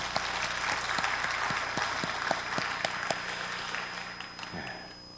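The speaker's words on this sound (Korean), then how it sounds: "우리 축복의 박수, 격려의 박수 한번 할까요?" A church congregation gives a round of applause as a blessing and encouragement during a sermon, a moderate, continuous spread of clapping heard from a distance in a reverberant hall, tapering at the end.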